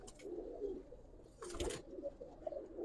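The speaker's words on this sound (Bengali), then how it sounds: "এখানে কিন্তু সুন্দর সুন্দর কবুতর আছে দেখেন মাশাআল্লাহ" Pigeons in a loft give soft, low coos in several short bouts, with a brief flutter or rustle midway, close and fairly quiet.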